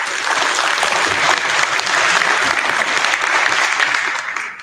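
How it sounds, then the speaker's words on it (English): A crowd at a sustainable buildings showcase night claps loudly and steadily for a presenter, a thick continuous patter of many hands that tapers slightly at the end. "So a big round of applause for Ioana."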